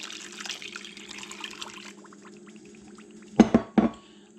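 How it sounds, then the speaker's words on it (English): Grape juice is poured into a bowl of sugar, a brief burst of splashing liquid after a quiet stretch with faint background hum. "You're supposed to add the juice to the sugar."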